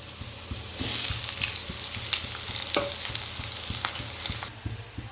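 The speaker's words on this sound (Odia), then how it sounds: "ମୁଁ କଡ଼ା ବସେଇକି କଡ଼ାରେ ତେଲ ଦେଇଦେଇଛି। ଆମେ ଏବେ ପିଆଜ ଭାଜିବା।" Onions fry in hot oil in a kadai with a steady bright sizzle, and a spoon strikes the pan in regular scraping taps as they are stirred.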